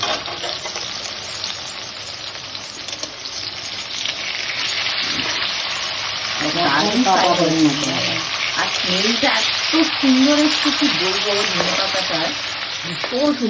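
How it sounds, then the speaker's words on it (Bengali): Chicken pieces fry slowly in a little oil in a kadai over a low gas flame, giving a steady, close sizzle and crackle throughout, with a voice faintly audible in the later half. "এটাকে আস্তে আস্তে করে ফ্রাই করছি"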